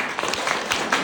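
Brief burst of steady clapping from a seminar audience, dense and continuous for about a second.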